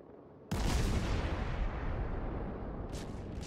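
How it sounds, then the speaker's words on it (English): World of Warships naval guns fire armor-piercing shells at enemy cruisers: one sudden, loud, close boom breaks in, then a heavy rumbling roar that slowly fades, with faint higher bursts near the end. "I'm shooting armor piercing at them"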